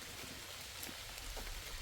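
Rain falls steadily outdoors in the wet season, a soft, even hiss with faint patters, alone and fairly quiet.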